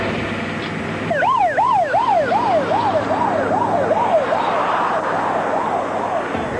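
A rescue vehicle siren starts up and whoops in fast repeated rises and falls, loud and close over engine rumble, then gradually fades as it responds to an incident on the Dames Point Bridge.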